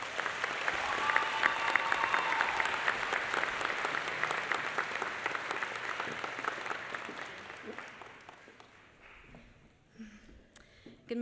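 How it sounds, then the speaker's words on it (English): A graduation audience applauds the student speaker with warm clapping that swells, holds for several seconds, then thins and fades out around the ninth second before a voice begins. "give me a warm round of applause for our student speaker this morning"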